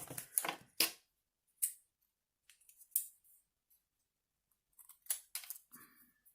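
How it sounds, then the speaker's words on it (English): Scissors snipping paper journal prompts in short, crisp, close cuts, several quick snips in clusters with quiet gaps between them. "So, let's just cut out some of these."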